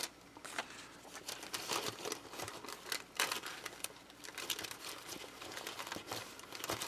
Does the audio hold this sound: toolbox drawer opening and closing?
no